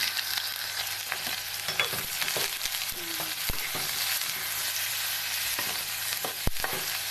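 Onion, green chili and garlic frying in a pan in a home kitchen, a steady broad sizzle throughout with a few faint clinks and knocks of a utensil, no voices.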